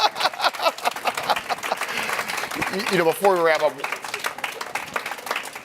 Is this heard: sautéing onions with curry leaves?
no